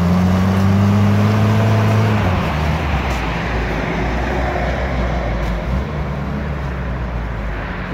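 Stock UAZ off-roader driving on a tank road at night, loud engine drone with gear-shift changes and rumbling tires, steady and close throughout.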